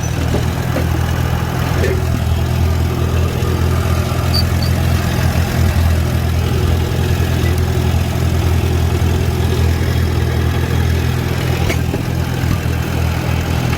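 A Farmall B tractor engine runs steadily while cultivating with Tilmor tender plant hoes, a loud, constant low idle-like drone lasting throughout, with no voices over it.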